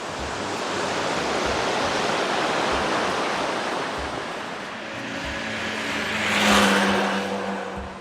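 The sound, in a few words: river flowing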